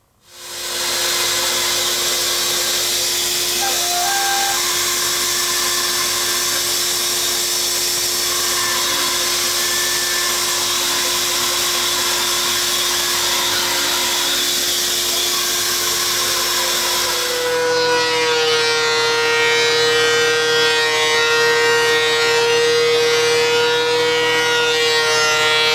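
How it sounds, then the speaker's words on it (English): A bandsaw resawing a wood board for a BBQ grill scraper, then a thickness planer taking over, a loud sustained machine whine with steady tones that shifts to a harsher, different drone partway through. "I'm going to head over to the bandsaw, I'm going to resaw this piece, and then we're going to take it to the thickness planer"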